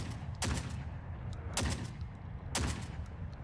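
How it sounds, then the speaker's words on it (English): Auto shotguns firing in The Forever Winter video game: three loud, sharp blasts about a second apart, each with a short decaying tail over a low background rumble. "Oh man, the auto shotguns."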